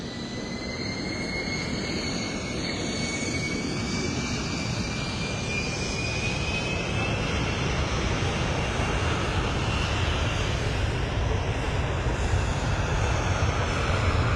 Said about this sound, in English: if you can hear the engine whirring, that's the flight that's taking His Excellency to France